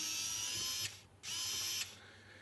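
An electric screwdriver fitted with a T6 bit, a cheap AliExpress tool, unscrews the small screws of a VanMoof e-bike battery cartridge. It gives two steady, close whirring bursts of about a second each, separated by a short pause.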